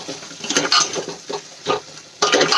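A spoon stirs whole stuffed onions through gravy frying in a pan, giving uneven scraping and sizzling bursts up close, with a louder clatter at the end.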